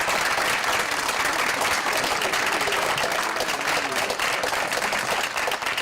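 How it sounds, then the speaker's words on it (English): An audience claps steadily at an evening community event in Alcoa, Tennessee, a dense, even wash of applause lasting throughout with no talking. "Give her a round of applause."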